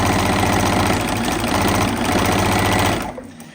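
Sewing machine stitching a fabric Easter egg with a pocket, a loud continuous rapid mechanical whir close by that runs steadily and then winds down and stops near the end.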